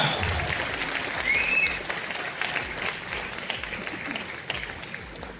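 A crowd at a Birsa Munda anniversary celebration claps for the winning football team at a prize presentation, with a steady outdoor round of applause, a brief whistle near the start and faint voices mixed in.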